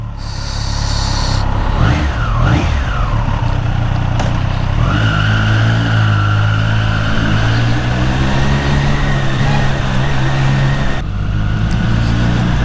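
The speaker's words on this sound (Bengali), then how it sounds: "চলো, লেটস স্টার্ট দ্য বাইক।" A Triumph Street Triple RS motorcycle engine starts and then runs steadily, with a loud, continuous engine drone and a few rising revs throughout.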